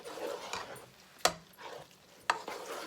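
Macaroni is stirred in a pan over soft, low sizzling. A spoon gives a few scraping swishes and two sharp clicks against the metal, quiet and close.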